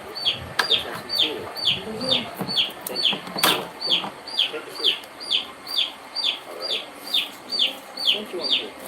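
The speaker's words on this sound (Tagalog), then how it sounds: "Ang ingay ng sisiw, naninibago pa siguro." Chicks cheep loudly in a steady, rhythmic run of high peeping calls that repeat about twice a second, with faint background rustling and a few knocks.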